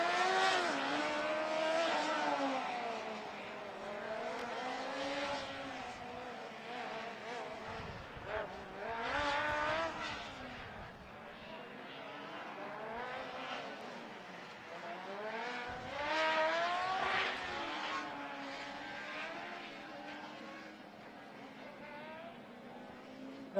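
A Formula SAE race car engine drones along the track at an endurance event, pitch rising and falling through gear changes and corners as the car passes and recedes, under an announcer's commentary.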